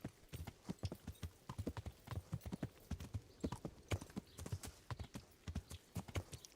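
Rhythmic horse hooves clip-clopping at a steady trot in Kingdom Come: Deliverance, close and clear, continuing throughout without voices.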